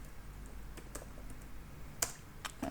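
Code is typed on a computer keyboard in quiet, scattered keystrokes and clicks, a few distinct taps spread across the clip, close but soft.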